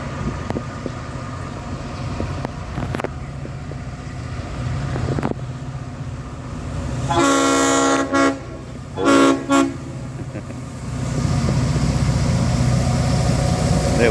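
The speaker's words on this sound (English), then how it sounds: "There's the horn for the passenger crossing." A freight locomotive's horn sounds for a passenger crossing on an Australian steel train with a three-engine lash-up, giving a loud sustained blast followed by two shorter blasts over steady engine rumble.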